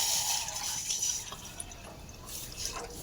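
One cup of water poured into a pan on a lit gas stove to make Aparajita flower tea: a steady, close, splashing trickle with a few drips, heard alone.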